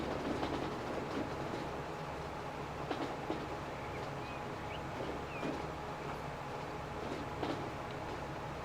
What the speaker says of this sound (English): Oh, hang on, there's a train.